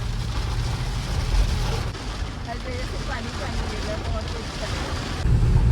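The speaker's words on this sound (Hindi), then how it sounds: "बहुत तेज बारिश हो रही है।" Heavy monsoon rain pours onto a car driving through the Malshej Ghat, a dense steady hiss heard from inside the cabin over a low engine rumble, with faint muffled voices.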